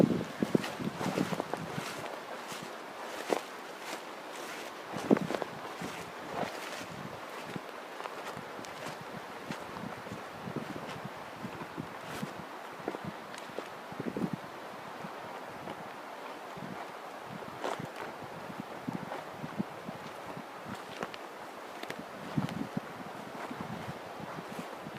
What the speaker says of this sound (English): Try to get out of the wind here.